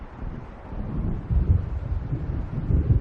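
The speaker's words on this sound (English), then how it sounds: "It seems there's a storm coming." Low rumbling thunder and gusting wind of an approaching storm over open water in the video game Alan Wake Remastered, a steady dark roar with swelling low surges, no voices.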